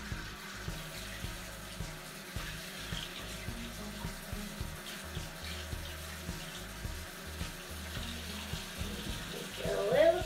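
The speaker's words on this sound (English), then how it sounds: "Just turn on the water." Water runs steadily from a tap while a cat is rinsed, a continuous splashing stream with soft rhythmic sloshing and a louder surge at the end, a voice faintly present underneath.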